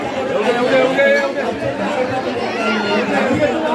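Dense chatter of a large crowd of devotees at a Navratri festival for Goddess Kelambadevi at Kharoshi, Pen, a continuous close murmur of many overlapping voices with no single speaker standing out.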